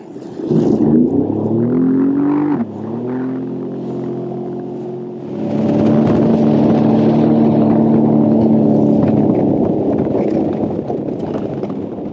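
A Sea-Doo personal watercraft motor running loud and close, its steady drone shifting pitch as it revs, dipping briefly, then holding a strong even hum.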